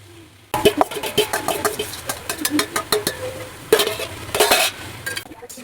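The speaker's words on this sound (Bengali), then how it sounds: "এবারে ভালো করে নাড়াবো এটাকে" Raw jackfruit pieces stirred and fried in oil in a pan, with repeated scraping and clattering strokes of a spatula against metal over a low sizzle, irregular and close, with louder bursts of stirring near the end.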